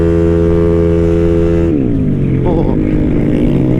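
A motorcycle engine with a newly replaced throttle cable runs loud and close, holding a steady harmonic drone before its pitch drops and wavers as the throttle eases, with wind rushing throughout.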